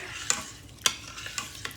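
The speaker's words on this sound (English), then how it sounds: "we're gonna give it a really good stir" Beef tips are stirred in a pan of simmering liquid, four sharp scraping clatters of a utensil against the pan spaced roughly half a second apart, over a soft steady sizzle, close up.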